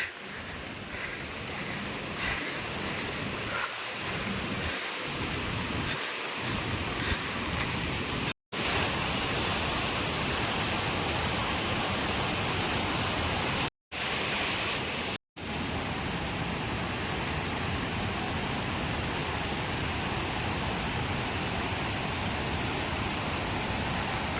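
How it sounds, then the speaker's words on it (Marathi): Roadside waterfall roaring steadily from nearby, a dense unbroken rush of water lasting throughout with a few brief dropouts and faint low thumps early on, no voices. "हे वॉटरफॉल तर भारीच आहे एकदम जवळ जाऊन बघणार"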